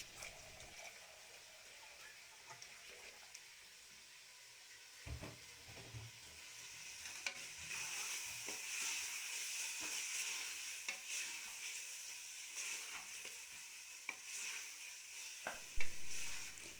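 Boneless beef sizzles steadily as it fries in a pan, with occasional clinks and scrapes of stirring over a constant hiss, no talk.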